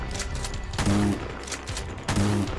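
Two loud shotgun blasts fire about a second apart in a horror video game, each a sharp boom followed by a brief mechanical pump or reload clatter.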